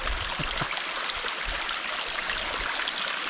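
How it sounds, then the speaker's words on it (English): Shallow river water rushing and trickling across a backpacking trail in the mountains of Ontario, a steady broadband wash with occasional soft splashes, close and continuous with no talk. "I'm in the river again"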